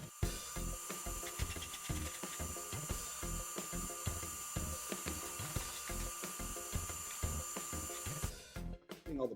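Rhythmic sawing through wood parts for a table saw cabinet, with steady repeated strokes that run close and loud for about eight seconds before stopping abruptly.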